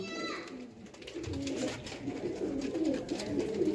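Breeder pigeons in a cage coo softly and continuously, a low rolling murmur of several birds close by, with faint background noise and no clear talk over it.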